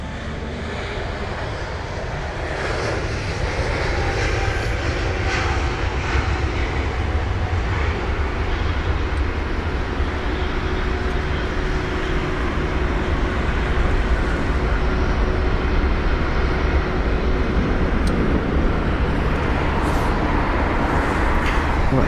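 A Lufthansa airliner comes in to land at London Heathrow, its engines a steady, loud broadband roar that holds for about twenty seconds with no break and no talk over it.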